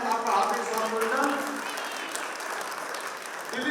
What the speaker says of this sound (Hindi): जोरदार तालियों से स्वागत चेता जी का।